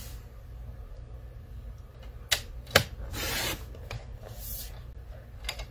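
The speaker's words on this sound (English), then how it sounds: "And you're probably just gonna watch me cut for a little bit." Paper is cut for a 6 by 6 inch scrapbook layout, with quiet scraping and a few sharp slicing strokes that rise out of a low background hum.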